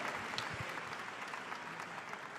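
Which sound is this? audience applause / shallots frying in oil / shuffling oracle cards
audience applause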